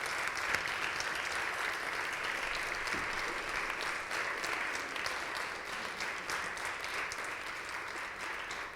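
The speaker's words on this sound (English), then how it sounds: "Give them a round of applause" A seated audience at a poetry and prose reading claps steadily as the readers return to the stage, a dense, even wash of applause holding at one level throughout.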